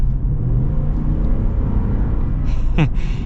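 A big Toyota Land Cruiser V8 pulls away with a steady low engine rumble that stays loud throughout, then a brief rising whine near the end.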